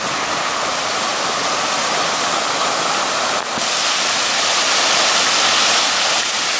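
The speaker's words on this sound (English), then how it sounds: "This lovely waterfalls and fountains." Hotel waterfalls and fountains at the Hilton in Hua Hin, Thailand, pouring in a loud, steady broadband rush that fills the whole stretch without pause or voices.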